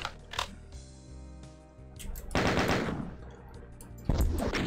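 Rapid automatic weapon fire in the Pac-Man Doom video game, loud bursts of gunfire sputtering in two main volleys separated by a quieter stretch, with scattered single shots before them.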